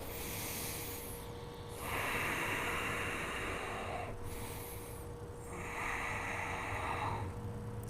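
Slow, deep nasal breaths during a vinyasa yoga flow held in warrior two, with long inhales and exhales alternating in a steady rhythm, close and fairly loud over a faint background hiss.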